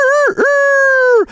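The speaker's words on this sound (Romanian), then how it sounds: "Acolo, în vârful porții, stătea un cocoș care striga" A rooster perched atop a farmyard gate crows once, a single loud, drawn-out call with a brief break near the start, heard up close and alone.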